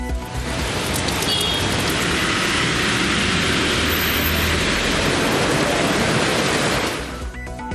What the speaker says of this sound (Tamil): ஊத்துக்கோட்டை உள்ளிட்ட பகுதிகளிலும் பரவலாக மழை பெய்தது.